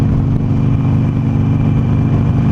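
A Harley-Davidson Sportster Roadster motorcycle engine running at a steady, loud, close drone while riding, with a deep continuous rumble and no voices.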